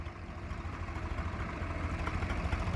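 A tractor engine idles nearby with a steady low rumbling throb, continuous and even throughout without speech.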